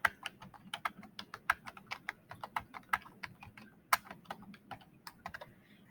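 Rapid, uneven keystrokes clatter on a computer keyboard, close and steady, with brief pauses between bursts of typing.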